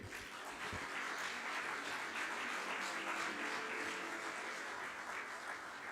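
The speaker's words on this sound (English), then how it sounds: "Could we have a stronger round of applause" A sustained round of applause from a summit audience, broad and steady throughout, with a dense wash of clapping and no voices on top.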